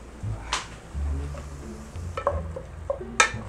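Ecuadorian sofrito frying in a pan gives a low, uneven sizzle with scattered clinks of a utensil against the pan and a few sharper clatters, close by and without talking.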